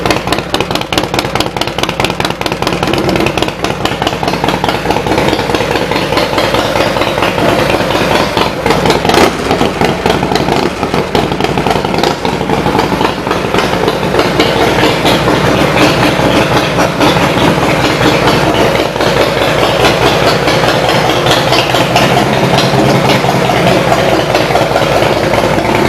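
A 113-cubic-inch 2005 Harley-Davidson CVO Screamin' Eagle Fat Boy engine idles steadily and loudly up close, its deep lumpy beat rumbling on without pause and no voices over it.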